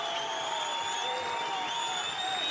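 A boxing arena crowd in Dublin roars and applauds steadily, a dense far-off wash of cheering with whistles sustained throughout.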